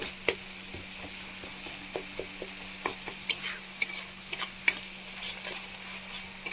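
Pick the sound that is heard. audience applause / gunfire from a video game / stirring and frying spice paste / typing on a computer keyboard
stirring and frying spice paste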